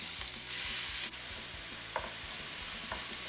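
Onion, ginger and pepper sizzling in about a tablespoon of olive oil in a large frying pan, a steady hiss with a few spatula stirs and scrapes, no voices.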